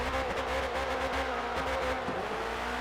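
Shelby Monaco drag car in Forza Motorsport, 600 horsepower and 1,200 pounds, its engine droning and stumbling in a bogging, uneven roar with pulsing dips, close and continuous, no talking.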